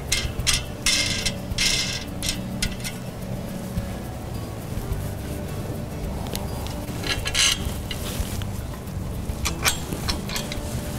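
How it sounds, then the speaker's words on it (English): A wing nut being tightened onto a bolt with a washer while a soccer rebounder frame is assembled, a close run of repeated metallic ratcheting clicks and scraping across the whole stretch. "Place a washer on the back and tighten your wing nut."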